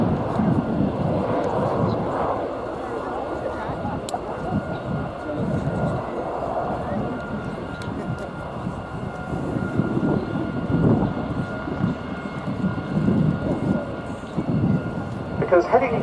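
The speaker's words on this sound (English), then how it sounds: "there goes the next but one display act, the RAF Short Tucano T1, getting airborne to go and hold off." An RAF Short Tucano T1 turboprop trainer takes off at an air day on a naval air station, its engine a continuous broad roar at middle distance that swells and fades slightly over wind and faint crowd noise.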